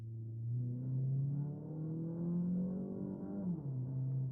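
The engine of a Citroën C5 Aircross drones from inside the cabin while driving, a low, fairly quiet hum whose pitch climbs slightly and then dips briefly near the end, with no talk over it.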